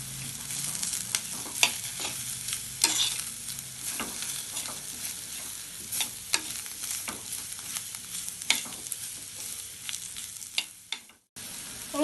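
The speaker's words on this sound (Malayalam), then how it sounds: "ഇനി എല്ലാം കൂടി നന്നായി ഒന്നുകൂടി മിക്സ് ചെയ്യുക" Drumstick pulp thoran with added drumstick pieces is stirred and mixed in a pan, with repeated scraping strokes over a soft frying sizzle and a brief pause near the end, no talking.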